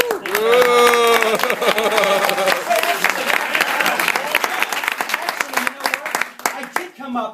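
Audience applause at a magic show, loud and sustained at first with a scattered patter of claps, and a few voices rising over it before it thins out toward the end.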